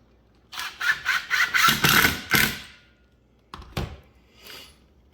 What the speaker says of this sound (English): So you take your screws, screw it into the frame,